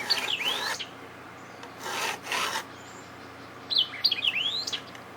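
A knife blade is drawn across a Ruixin Pro knife sharpener in three rasping strokes, each a gritty scrape with squeaky, chirping overtones, separated by short pauses, close and clear.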